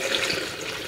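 Water poured into a container for birria sauce, a short steady splashing stream heard up close with no talking.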